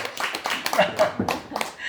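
Church congregation clapping in thanks to God during a lecture on biblical finances, a short burst of scattered claps mixed with voices.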